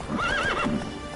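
A horse gives a short whinny over a quick clip-clop of hooves, close and brief.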